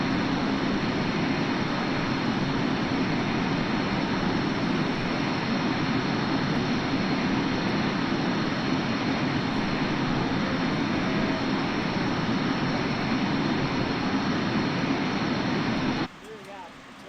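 MD-80 airliner engines roar in Microsoft Flight Simulator, a dense continuous broadband rumble and hiss held at steady loudness for about sixteen seconds before abruptly dropping away.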